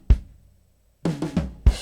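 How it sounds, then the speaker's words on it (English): A low tom drum in a studio mix, heard as a few deep, punchy hits with a gap between them, close and fairly loud, with other kit hits around them. "And this low tom's a bit quiet,"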